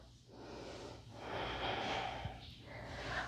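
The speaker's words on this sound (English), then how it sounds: "Take another inhale." A slow, deep inhale through the nose during an intermediate vinyasa yoga twist, a soft, airy breath swelling steadily over a few seconds, close and quiet with no talking.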